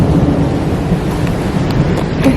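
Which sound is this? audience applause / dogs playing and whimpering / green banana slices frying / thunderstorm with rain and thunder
thunderstorm with rain and thunder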